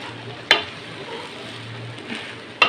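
Boiled sella rice being stirred into chicken and vegetables in a pan, with a steady low sizzle and two sharp spoon scrapes against the pan.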